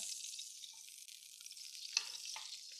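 Chicken sears in a hot skillet for tomato and herb chicken, a bright, hissing sizzle that runs steadily throughout with a brief sharper spatter near the end, no voices.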